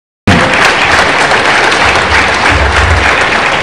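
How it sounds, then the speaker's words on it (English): Loud, dense applause from a large audience at an aviation event in Nigeria, starting abruptly and sustained steadily at close range without talk. "Another one round of applause."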